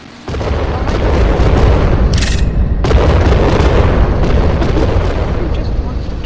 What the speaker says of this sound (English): we're gonna be bombing this room